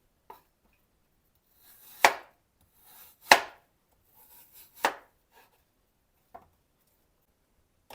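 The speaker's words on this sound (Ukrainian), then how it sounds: "Яблука нарізаю, так як гарбуз," A few sharp knife chops slicing apples on a cutting board, spaced irregularly about a second apart, close and crisp in a quiet room.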